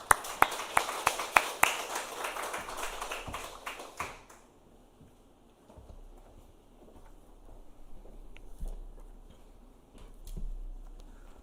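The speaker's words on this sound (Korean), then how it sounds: "우리 따뜻한 박수로 모시도록 하겠습니다" A sparse church congregation at a Wednesday service gives a handful of crisp, separate claps welcoming a speaker, the claps thinning out after a few seconds and leaving near-silence with faint room noise.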